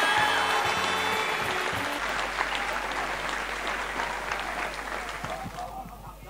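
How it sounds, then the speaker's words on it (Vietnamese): Wedding guests applaud for Trà My, a full, sustained round of clapping from a crowd that starts strong over a brief voice and slowly fades. "chúng ta tiếc chi một tràng vỗ tay cho Trà My được không ạ?"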